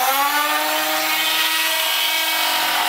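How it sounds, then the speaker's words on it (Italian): An electric sander with 250-grit sandpaper smooths a pallet-wood picture frame, a loud steady whine holding close and constant throughout. "e quindi andare a levigare tutta la cornice"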